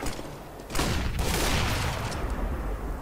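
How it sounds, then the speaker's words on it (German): A flashbang grenade goes off in CS:GO amid game noise, a sudden loud burst followed by a sustained roaring wash for a couple of seconds. "I'm throwing a flashbang."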